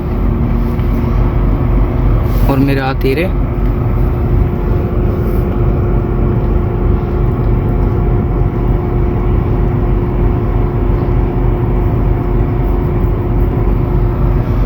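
A Renault Triber car engine idles steadily and close by for the whole stretch, with a brief clunk and a short rising tone near the start, while a voice speaks briefly.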